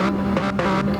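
BMW VGT race car engines rev together on the Tokyo South Outer circuit in a racing video game, a loud, steady, droning harmonic roar with slight pitch wobble throughout.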